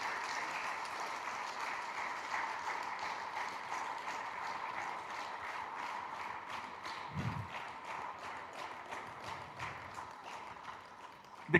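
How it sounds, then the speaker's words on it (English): An audience at a corporate Founder's Day event applauds an award-winning division, a sustained, fairly faint patter of many hands clapping that slowly tapers off, with a thump near the end. "A big round of applause to Cut Tobacco Division."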